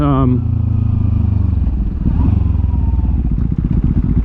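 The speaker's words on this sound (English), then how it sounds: "IX Racing exhaust on it" A 2020 KTM Duke 390 motorcycle with an IX Racing aftermarket exhaust idles and revs loudly up close with a throaty, pulsing exhaust rumble, and a voice speaks briefly over it.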